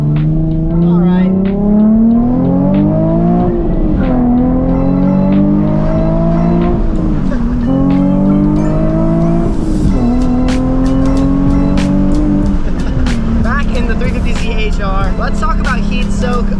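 Nissan 350Z engine revving through rising and falling gear pulls while driving, a loud steady drone with repeated climbs in pitch, with speech over parts of it.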